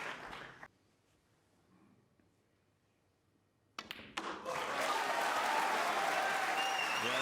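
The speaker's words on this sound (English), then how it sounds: "great cheer from the Crucible crowd" Crucible Theatre crowd at the 2013 World Snooker Championship breaks into loud applause and cheering after a shot, rising suddenly from near silence and holding strong to the end.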